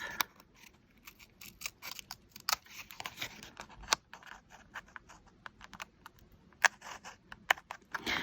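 Scissors snip off paint-backed tags in a quiet room, a scattered series of small crisp cuts and light scraping clicks, close and faint.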